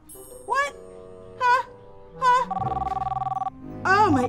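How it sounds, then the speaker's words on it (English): A telephone rings in a toy-play scene, several short melodic ring bursts separated by pauses, with one longer buzzing tone in the middle, loud and close. "I think that might be my phone."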